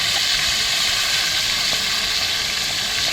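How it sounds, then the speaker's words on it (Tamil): Quail pieces dropped into hot oil in a kadai for a Tamil festival-style quail fry set off a loud, steady broadband sizzle that holds close and constant throughout, with no talk. "எண்ணெய் சூடானோன்னு காடையை போட்டுக்கலாம்."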